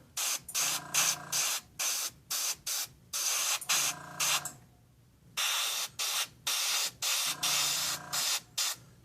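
Repeated short bursts of an airbrush spraying paint graphics on a model car part hiss in quick succession, close and fairly quiet, with a brief pause midway before the sputtering bursts resume.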